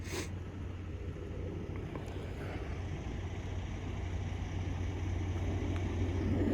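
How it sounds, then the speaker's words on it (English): A steady, low broadband rumble of an airplane passing overhead on a cold day, distant and even throughout with a faint hum underneath and no talking. "Damn airplane."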